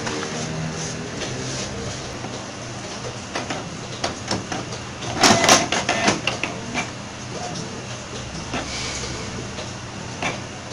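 Inkjet printer runs a test page after a cartridge check, with steady mechanical whirring, repeated carriage clicks and feed movements, and a louder burst of motor noise midway, close and without talk.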